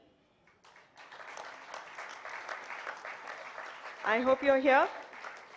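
Audience applause at a staff welcome event, a steady broad clatter building under a distant announcer, swelling louder near the end as a voice speaks over it.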